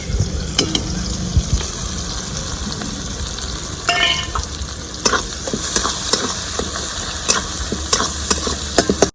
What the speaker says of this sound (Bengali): আমি তার মধ্যে আরেকটু তেল দিয়ে দিব কুচানো পেঁয়াজগুলো দিয়ে দিব তেলের মধ্যে